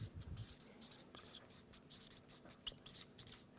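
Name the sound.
writing on a board while drawing pillars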